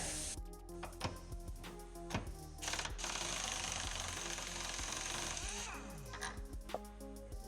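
An impact wrench zips off the top bolt of a strut during a KONI shock upgrade, sounding as a close, loud rattling hammer burst in the middle, framed by shorter bursts and clanks before and after.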